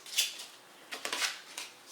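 Pandemic board game infection cards are shuffled by hand, giving several short, crisp papery riffles and slaps over two seconds, close up and otherwise quiet.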